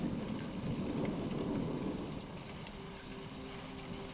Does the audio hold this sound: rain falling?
yes